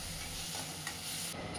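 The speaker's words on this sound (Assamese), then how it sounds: "দি দিছোঁ খুন্দি লোৱা আদা নহৰুখিনি, আৰু সেইখিনি ধুনীয়াকৈ ভাজি ল'ম" Crushed ginger and garlic fry in a pan, making a dense, continuous sizzle and hiss that stays steady throughout, close and even, with no voices.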